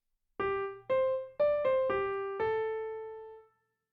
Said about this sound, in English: The notes with the dots should be played with a very short attack.